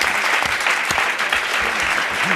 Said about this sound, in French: Je propose qu'on applaudisse tout spécialement Yves Mirande.